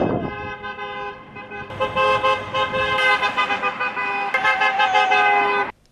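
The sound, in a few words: car horn honking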